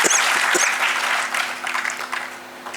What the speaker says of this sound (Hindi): जोर से ताली बजाइए अगर बजानी है तो।